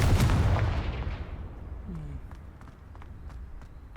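A Confringo blasting spell fires in the Hogwarts Legacy video game, a loud booming burst that quickly decays into a rumbling tail with faint clicks and a few soft footsteps afterward.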